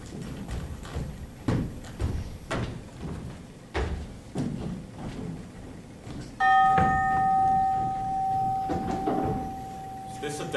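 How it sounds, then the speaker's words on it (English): A bell is struck as a signal, a stage sound effect during a high school production of Macbeth: bright ringing tones that ring on and decay, after footsteps and someone speaking. "Go bid thy mistress, when my drink is ready, she strike upon the bell."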